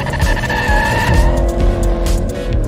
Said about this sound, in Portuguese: eu vou passar a marcha e acelerar.